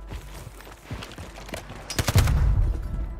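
Gunfire from a weapon being tried out in Call of Duty, with scattered shots and footsteps early on, then a dense, louder cluster of rapid shots and a heavy rumbling burst near the end, with no voice over it.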